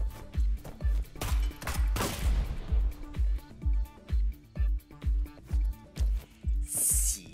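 Rapid bursts of gunfire from the video game Neon Abyss repeat in a steady, regular rhythm with a louder blast early on, punchy and close, with no voices.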